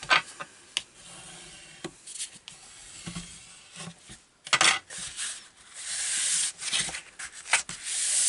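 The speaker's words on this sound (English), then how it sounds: "So just take your time burnishing all the elements." Craft card elements being burnished by hand while making an A5 stamp storage box: close, soft rubbing strokes in irregular bursts, some longer and louder toward the end, with no talking.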